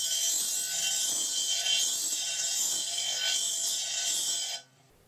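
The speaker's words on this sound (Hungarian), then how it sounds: "A levágott vasanyag végeit a hegesztés előtt érdemes 45 fokban megköszörülni" Angle grinder shaping the cut ends of steel fence stock to 45 degrees before welding, a steady loud high-pitched grind running continuously for several seconds and then cutting off abruptly.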